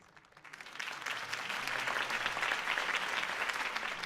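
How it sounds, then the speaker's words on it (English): Crowd applause following Harvey Dent's campaign speech in the video game Batman: The Telltale Series, swelling quickly from a soft start into steady, dense clapping that holds loud throughout, with no talking over it. "could have heard that applause"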